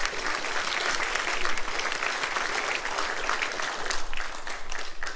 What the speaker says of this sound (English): Let's applaud the audience.